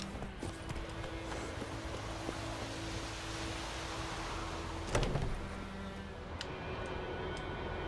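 Roach, Geralt's horse in The Witcher III, gallops with steady hoofbeats beneath a dense game soundscape of music and ambience, a brief louder thump arriving near the middle.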